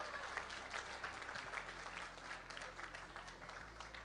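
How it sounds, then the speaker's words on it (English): An audience at a talk on the future of work claps steadily in a dense, even round of applause that lasts throughout, with no speech over it. "Round of applause for the females."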